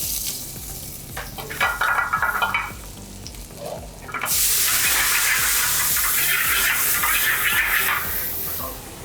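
Chopped garlic frying in oil with butter in a restaurant kitchen in Karachi, with a soft sizzle and stirring at first, then a loud, steady hiss of frying that runs to the end.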